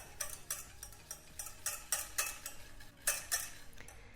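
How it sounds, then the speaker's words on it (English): Caster sugar being stirred into cake batter in a mixing bowl, heard as a steady series of rhythmic scraping, clinking strokes close by, with no talking. "I'm just going to put some caster sugar straight in, like I would do with my normal recipe, and mix that together."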